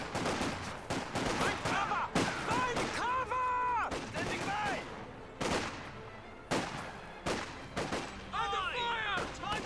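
An MG42 machine gun fires in Company of Heroes 2, with bursts of rapid gunfire and scattered shots cracking in quick clusters, mixed with game effects and tonal sweeps, under a player commentating.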